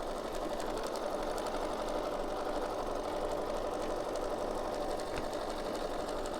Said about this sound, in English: We're going to go ahead and sew, and it should sew all day long.